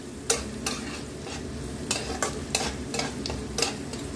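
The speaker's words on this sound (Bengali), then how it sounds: "দিয়ে হালকা নাড়াচাড়া করব একটু কাঁচা গন্ধটা যাওয়া" Ginger paste and crushed garlic stirred in a frying pan for a spicy soya dish, with a steady hiss of frying under repeated crisp spatula scrapes spaced about half a second apart, close by and without any talking.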